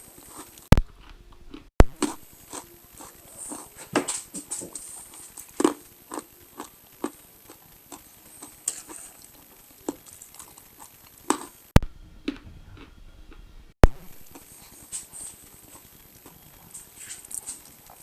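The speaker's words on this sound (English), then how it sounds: "I wasn't expecting the pretzels to be that crunchy." Pretzels from an MRE trail mix being chewed up close, a steady run of sharp, irregular crunches with short pauses in between.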